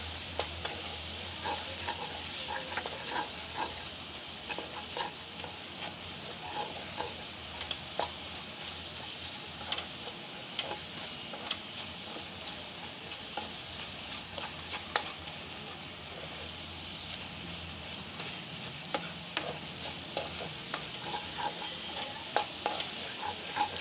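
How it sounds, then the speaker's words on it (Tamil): Pav bhaji is stirred and mashed in a frying pan at home over a constant sizzle, with faint scraping taps of the spoon recurring throughout. "போட்டு நல்லா அதை பரட்டி விட்டு கொடுத்து நல்லா அதோட மேஷ் ஆகி வரணும்."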